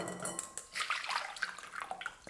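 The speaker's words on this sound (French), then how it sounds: "c'est juste enlever l'eau, on n'a pas besoin de les rincer" Soaking water poured off dates, a faint, brief splashing trickle with light clinks of a bowl or container, close by.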